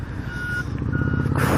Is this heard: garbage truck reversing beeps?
yes